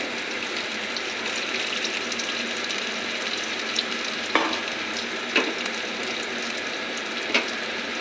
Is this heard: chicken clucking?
no